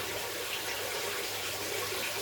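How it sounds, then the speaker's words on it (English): Aquarium filter sponges are squeezed out in tank water from a Lake Malawi mbuna cichlid tank during a water change. Water rushes and sloshes continuously and fairly close, with no speech. "Get your sponges out in the tank water. Good squeeze, give them a good squeeze."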